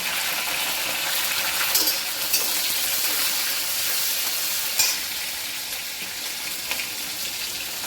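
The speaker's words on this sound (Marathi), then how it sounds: "हिरव्या मिरच्या परतून घ्यायच्या फोडण्यामध्ये" Green chillies and garlic sautéing in hot tempering oil for Maharashtrian pithla, a steady close sizzle with a few brief spatters and stirring clinks, no talk.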